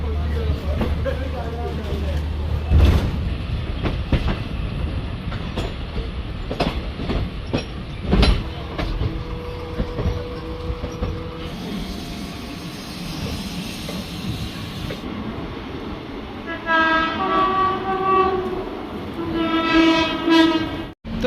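An old double-decker local passenger train departs and runs along the rails, giving a steady low rumble with a horn tone near the start and rhythmic clatter building toward the end, with talk heard over it.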